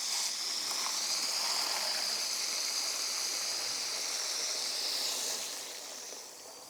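Water pours steadily into a container in a garden, a continuous bright hissing rush that holds for several seconds before easing off near the end.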